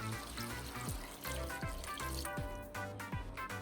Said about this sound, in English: I'm going to put 4 cups of this water into my vegetable mixture here.